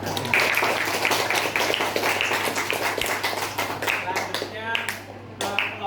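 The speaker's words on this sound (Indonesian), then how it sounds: "Sekali lagi beri tepuk tangan untuk kelompok 1." A group in a classroom claps for the first team after its presentation, a dense spatter of many hands that holds steady at moderate loudness, with chatter mixed through it and a low electrical hum underneath.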